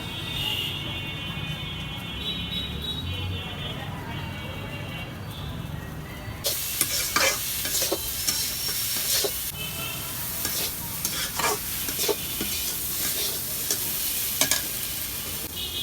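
Vegetable bhaji frying in a wok, a steady close sizzle that grows louder and brighter partway through, with scattered scraping stirs and clatters over a continuous hiss and no talking.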